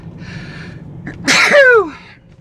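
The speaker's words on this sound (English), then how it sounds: "I'm gonna probably have this sneezing attack because they will not go away" One sharp, loud sneeze close to the microphone, preceded by a brief inhale in a quiet setting, not repeated.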